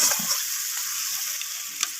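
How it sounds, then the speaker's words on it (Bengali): Garlic paste frying with bhetki fish in a pan, a close, steady sizzle broken by soft scraping strokes of a stirring spoon, with no talk. "তো রসুনটাকেও আমি সব কিছুর সাথে নাড়াচাড়া করে ভেজে নিচ্ছি।"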